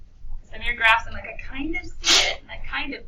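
A single sharp sneeze rings out in a classroom during a math lesson while a student keeps speaking around it.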